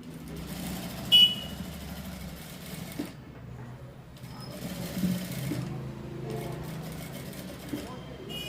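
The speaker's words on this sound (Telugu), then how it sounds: "ఈ నెక్ చుట్టూ ఈ విధంగా కుట్టు వేసుకోవాలి" Sewing machine stitching around the neckline of a frock, running in steady bursts with a brief pause midway, fairly quiet and close.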